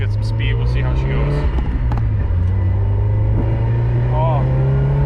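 A Mazda Miata with a freshly swapped transmission and new clutch pulls hard from inside the cabin, its engine droning and rising in pitch, then dipping at a gear change and climbing again, loud and close.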